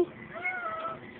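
A cat gives one short, quiet meow with a rising then falling pitch, close by and alone.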